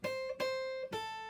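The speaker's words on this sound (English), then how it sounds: "if I just played those melody notes on their own without the chord, it would sound like this" Three soft, separate plucked acoustic guitar notes ring out alone without chords, quiet and close, each decaying before the next, from a fingerpicked blues gospel tune.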